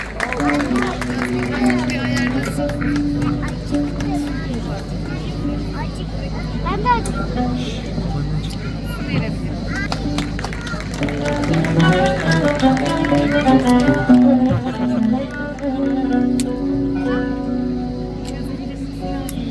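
Applause from a concert audience at a Turkish classical music choir performance, a dense sustained patter of clapping mixed with crowd murmur and a few voices, loud and continuous throughout.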